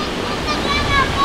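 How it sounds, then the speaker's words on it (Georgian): A river near Borjomi flows past in a loud, steady rushing roar, with faint voices talking over the water. "ბიჭო, ეს ზღვა არ არის, მდინარეა."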